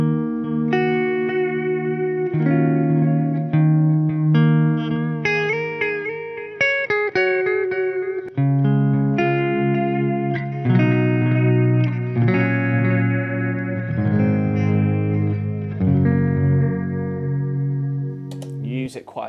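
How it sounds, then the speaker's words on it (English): Electric guitar played through an El Cap pedal with built-in spring reverb and heavy wow and flutter, a wobbling, echoing run of chords and single notes filling the whole stretch, loud and close, no voice over it. "there is a bit of spring reverb built into this El Cap, and always wow and flutter pretty much full on"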